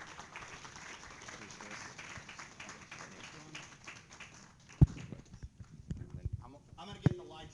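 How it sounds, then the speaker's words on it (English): An audience at an engineering lecture claps for several seconds, a dense patter of hands that thins out as a speaker begins talking, with a few bumps near the microphone. "let's give a round of applause for Dr. Hijazi."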